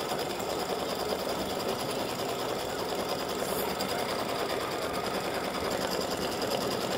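An embroidery sewing machine runs steadily through a fill stitch on fabric, a fast, even mechanical whir of needle strokes that holds at constant loudness throughout with no talking.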